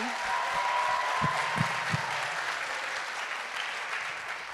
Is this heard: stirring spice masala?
no